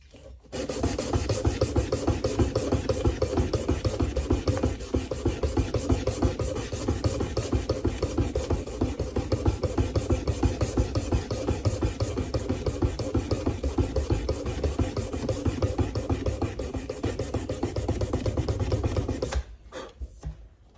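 A knife blade is sanded by hand with coarse abrasive grit, a fast, steady rasping of back-and-forth strokes that runs close and continuous for nearly twenty seconds before stopping.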